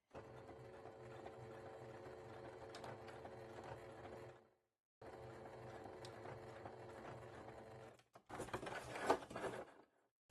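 A sewing machine stitches bias binding in a steady whirring run that stops briefly and then resumes, followed by a rustling burst of fabric handling near the end.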